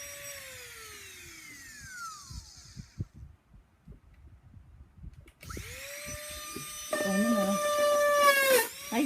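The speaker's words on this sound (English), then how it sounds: "I'm going to Dremel this one" Dremel rotary tool spinning down and then revving up again as it cuts into a gourd, with a high pitched motor whine, close and fairly loud, and a pause between runs.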